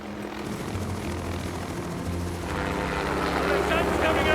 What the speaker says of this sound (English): the chopper's taken off